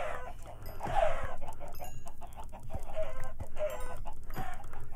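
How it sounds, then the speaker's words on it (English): Chickens clucking in Minecraft, a video game: several fowl cluck and squawk in repeated bursts, fairly close and clear over a low background hum. "I've got chickens over here. Got a lot of chickens."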